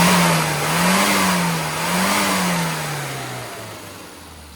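A car's engine revs on a test drive after a budget cylinder head service with resealed valves, a mid-pitched engine note that rises and falls in a couple of swells before settling lower, loud and close with no talking.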